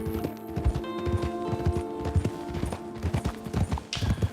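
Horse hooves clip-clop steadily in Red Dead Redemption 2, a close, regular walking rhythm of hoofbeats with faint background tones and little talk.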